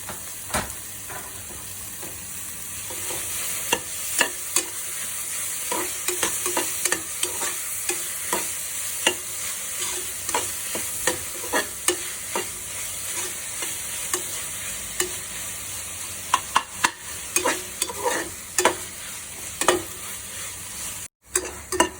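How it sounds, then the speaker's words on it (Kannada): Chopped tomatoes fry in a hot pan for a pulao, with a steady sizzle and repeated scraping stirs throughout, close and clear with no talking. "ಈಗ ನಾನು ಹೆಚ್ಚಿಟ್ಕೊಂಡಿರೋಂಥ ಟೊಮೆಟೊ ಹಾಕೊಳ್ತೀನಿ."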